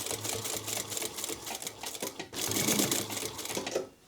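A sewing machine top-stitching through tape and layers of fabric on a sling bag runs in short, uneven bursts of rapid needle clatter, close and moderately loud, with a brief pause midway.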